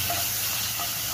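Chopped onion goes into hot oil with cumin and chilli in a home curry pan, giving a steady soft hiss and sizzle that holds evenly throughout with no voices.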